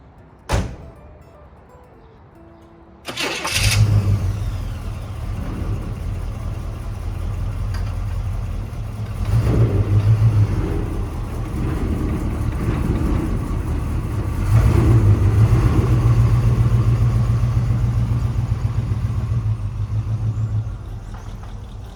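A 1972 Chevrolet C10 pickup starts up after a short quiet stretch, then its engine runs steadily with a mid-pitched drone that swells louder twice as it drives, close to the microphone.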